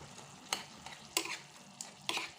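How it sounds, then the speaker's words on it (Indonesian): Broccoli and other vegetables stirred in a pan for a baby-food meal, a few separate scraping strokes with short gaps, soft and close, with a faint sizzle beneath and no talking. "Kita aduk-aduk"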